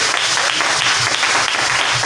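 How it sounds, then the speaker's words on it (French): Loud, dense applause from a church congregation clapping for the Lord, continuous and close throughout. "Est-ce que quelqu'un peut applaudir le Seigneur?"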